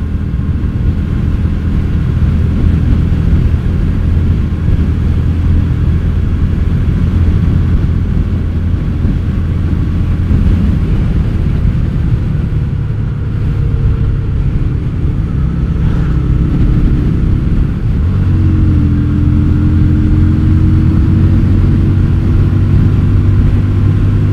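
A Yamaha Virago XV250 bobber with a 40-tooth rear sprocket cruises along, its engine holding a loud, steady drone with wind rumble and a brief dip in pitch as it shifts into fifth gear.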